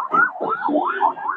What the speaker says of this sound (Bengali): এখন পুলিশের গাড়ি আসছে।